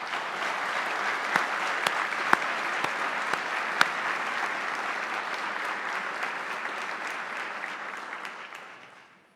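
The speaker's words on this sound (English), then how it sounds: "can we take a pause and give applause to our families who support us?" Sustained audience applause at a sheriff's department deputy honors ceremony, a dense even clapping with a few sharp individual claps standing out before it gradually fades away at the end.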